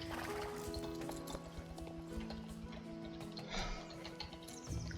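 Horses in the online game Star Stable Online, with steady clip-clopping hooves and a whinny over ambient game music and faint bird chirps.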